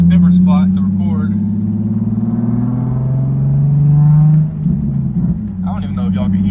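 A 2007 Nissan 350Z HR engine warm-starting and idling with a steady low rumble, loud and close, while a person talks over it.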